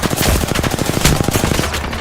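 Rapid automatic gunfire in the Apex Legends video game, a loud, close, continuous stream of shots in fast, even bursts with no pauses and no talk.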